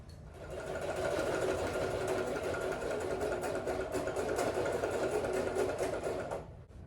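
A sewing machine stitches upholstery for a 1950 Cadillac hearse restoration, running in one steady, fairly quiet burst of rapid mechanical clatter for about six seconds before stopping.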